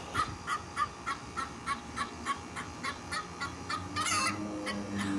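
A hen called Miss Karen, in a backyard flock, clucks excitedly after laying an egg, with a steady series of rhythmic, nasal calls close by and a louder squawk near the end.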